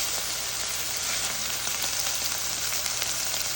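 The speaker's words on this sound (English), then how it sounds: "You can actually brown this meat" Ground hamburger meat sizzles and fries steadily in a pan on the stove, a dense, even crackle that holds at one level throughout with no voices.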